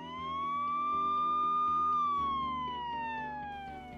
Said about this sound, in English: Oh, look, a police car.